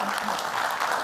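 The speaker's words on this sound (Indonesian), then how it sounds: "kita berikan tepuk tangan" A studio audience at a televised Indonesian political talk show breaks into brief, steady applause, a dense burst of clapping lasting about a second.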